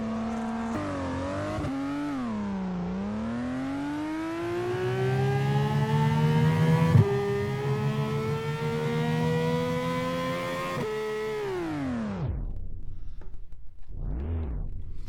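A video game car engine sound, overdriven, holds a strained, rising high-rev whine for several seconds, then cuts off sharply, followed by a brief short rev.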